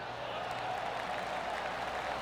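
A golf gallery at the Arnold Palmer Invitational applauds a shot that just missed the hole, a steady wash of polite clapping from a distant crowd lasting the whole moment without letup.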